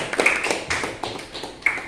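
A small group in a classroom on Islamic economics claps for the best group, brief scattered hand claps with uneven rhythm, close and moderately loud.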